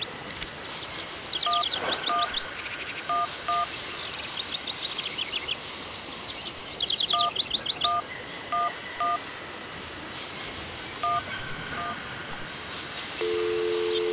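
Telephone keypad dialing in the video game Syberia, a series of clear synthetic DTMF beeps in short bursts over a faint ambient background, ending with a steady tone.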